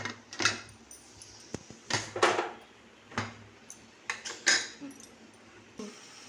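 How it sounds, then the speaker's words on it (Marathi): A metal lid goes onto a pressure cooker in a home kitchen, making a series of quiet, separate metallic clinks and taps with short pauses between them. "मी आता ह्याला कुकरला झाकण लावते."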